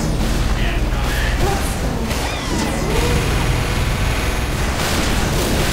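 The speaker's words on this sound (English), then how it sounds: "Lots of explosions." Explosions in the video game Pony Fortress 2 arrive as repeated booms and crashes with whooshes amid busy combat noise, and a voice talks over the action.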